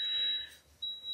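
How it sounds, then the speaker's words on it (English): Electronic beeping from a rice cooker signalling the rice is done, a steady high tone that breaks off briefly and resumes, fairly quiet indoors. "sorry about the beeping, the rice pot's done."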